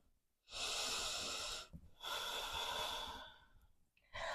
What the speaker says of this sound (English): One more breath in and breath out.